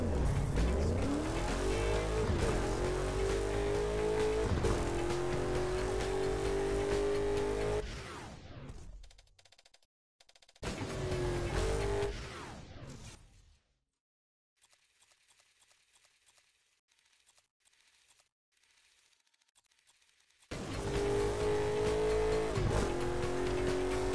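Burnout Paradise Remastered race car engine roars loudly and steadily, then drops out into near silence with faint clicks before returning; no talking.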